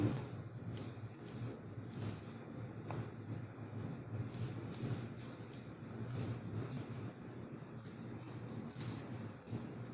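Computer mouse clicks from working with a pen tool in design software, sharp high ticks in irregular bursts, several quick pairs and singles, heard up close over a steady low background hum.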